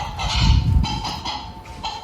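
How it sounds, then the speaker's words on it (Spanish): A hen clucks in a few short bursts, close and moderately loud, over a low rumbling background. "De pronto, una gallina cacareó."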